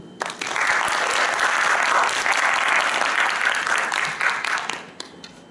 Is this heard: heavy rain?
no